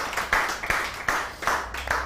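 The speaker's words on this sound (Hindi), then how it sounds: "एक दफा भरपूर तालियां होनी चाहिए." A studio audience at a weekend entertainment show claps loudly and close by, in uneven rhythmic bursts of hand claps.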